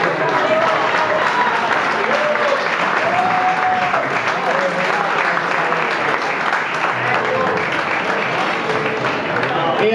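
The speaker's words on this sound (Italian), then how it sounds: "Io farei un grandissimo applauso al delegato Antonio Stellini." Loud, sustained applause at an AIS Grosseto awards ceremony for delegate Antonio Stellini: a thick, close roar of many hands clapping without pause, with scattered voices calling out over it.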